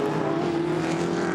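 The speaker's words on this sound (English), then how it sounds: "The big V8s will just go goodbye down this front straight." V8 touring race cars, including a Mustang Fastback, roar down the front straight at Hidden Valley during a Touring Car Masters race, a loud continuous engine drone with a steady pitch and no talk over it.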